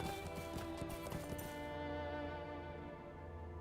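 Horse hooves clip-clop in the fantasy game Lord of the Rings Online, a steady rhythmic trotting of hoofbeats set against a droning musical background, faint and even.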